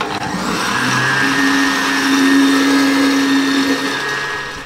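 A kitchen blender runs loud and close, whirring steadily as it mixes a chicken pie batter with flour, its motor pitch holding fairly even and then easing slightly near the end.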